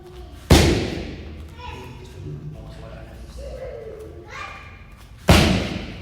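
Two sharp, heavy thuds of Muay Thai kicks striking a pad, spaced several seconds apart, with quiet talking and shuffling in between.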